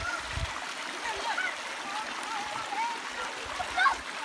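A child splashes and plays in water outdoors at a campsite; irregular splashing and stream-like water noise run continuously, with voices talking nearby.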